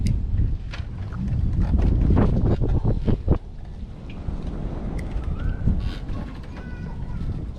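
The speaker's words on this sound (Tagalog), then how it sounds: "Sobrang lakas ng hangin." Strong wind buffets the microphone with loud, gusty roaring, heaviest early on, over outdoor water ambience at a fishing pond.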